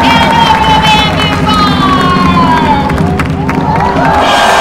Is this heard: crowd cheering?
yes